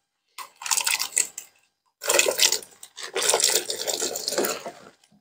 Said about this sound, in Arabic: بس يغلي المي بنضيف الفول